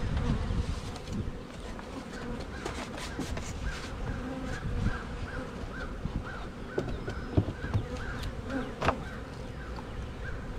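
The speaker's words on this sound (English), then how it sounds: "I already like these bees, they're really flying." A swarm of honeybees buzzing steadily around a newly installed hive, a continuous close drone with individual bees flying past, and occasional crow caws in the background.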